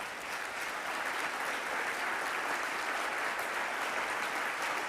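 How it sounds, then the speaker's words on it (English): Sustained applause from a large audience of mayors standing at a national conference meeting, dense and steady throughout, with no speech over it. "All of our mayors, please stand for a round of applause."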